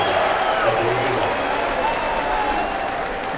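A crowd at an Iowa State college football tailgate cheers and claps in a dense, steady roar that holds at an even loudness for about three seconds, with no single voice standing out.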